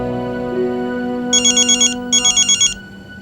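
A phone ringtone chirps in two quick bursts of rapid electronic trills, loud and close over a steady low musical background.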